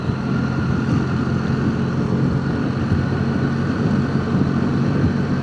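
A BMW R1300GS Adventure motorcycle cruising in sixth gear at speed, a steady loud engine drone mixed with heavy wind rush, continuous throughout.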